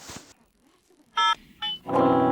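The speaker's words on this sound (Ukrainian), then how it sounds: "я терміново дзвоню до Боба" Cartoon telephone being dialed in an animated children's show: a short burst of noise, then tonal beeps of dialing that grow into a louder sustained ringing tone at the end.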